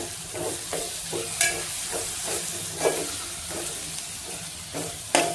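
Vegetable curry frying in oil in a pan, a steady close sizzle and hiss with intermittent scraping stirs and a few sharper clinks of a spoon against the pan.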